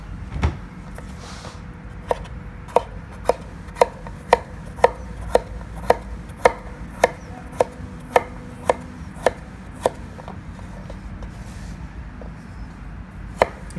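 A knife chops a cucumber into small pieces on a cutting board for a salmon-scrap salad, giving steady, evenly spaced crisp thuds, close and clear, with no talking.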